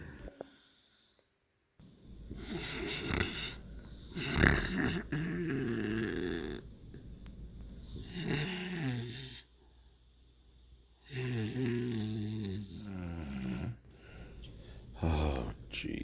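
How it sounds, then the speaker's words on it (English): A sleeping woman snores in long, rough, throaty breaths at night, several loud snorting inhalations separated by quieter pauses, close and prominent. "Still snoring away."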